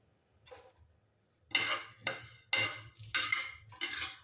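Fenugreek seeds roast in a pan on low gas, giving bursts of dry sizzling and crackling that come in repeated surges as they are stirred, fairly close and growing busier after a quiet start.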